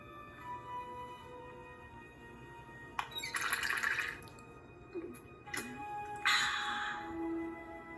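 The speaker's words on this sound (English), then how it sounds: "Actually, let's give Nancy a little bit of water" Water poured and drunk in a Nancy Drew adventure game set in an Egyptian tomb, heard as short liquid gurgling and splashing bursts over a quiet ambient hum, with faint drips and clicks.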